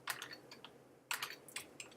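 Keys on a computer keyboard are typed in two quick bursts of clicks, close and fairly crisp, with a short pause between them and no talking.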